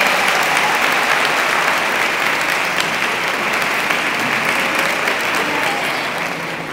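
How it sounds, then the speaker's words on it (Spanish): Sustained audience applause at a community gathering, loud and dense, a steady wash of many hands clapping that holds throughout with no voices rising above it. "Brindémosles un fuerte aplauso,"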